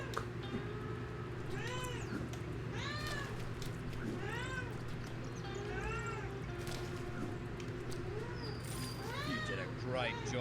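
A cat meows repeatedly, short rising-falling cries spaced every second or two over a steady hum and background game noise, fairly close.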